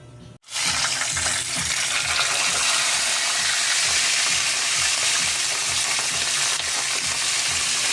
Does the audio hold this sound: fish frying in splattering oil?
yes